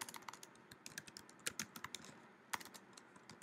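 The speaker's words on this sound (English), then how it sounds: "typing on computer" Rapid, uneven keystrokes on a computer keyboard while text is entered for a presentation slide, close and fairly quiet, with clusters of clicks and short pauses and no voices.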